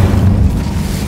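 Incendio fire spell cast in Hogwarts Legacy, a loud low booming burst of flame that swells at once and rumbles on steadily for about a second, with no voices over it.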